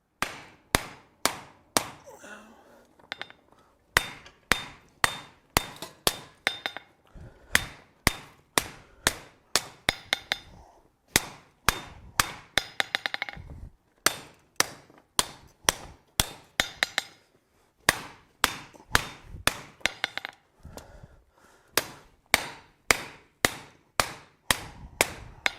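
Hammer blows ring out on hot steel being forged into a rasp on an anvil, sharp, close strikes coming in quick bursts of steady rhythm with short pauses between runs.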